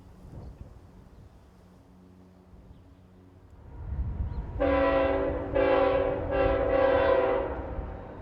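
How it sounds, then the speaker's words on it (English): An eastbound CSX freight train led by a pair of ET-44AH locomotives, hauling an ES-44AH and an SD-40-2, rumbles closer on the Cumberland Subdivision in Maryland, then sounds several loud, chord-like horn blasts over the approaching roar. "Speeding east, the train engines are a pair of ET-44AH, ferrying a third, an ES-44AH, and an SD-40-2."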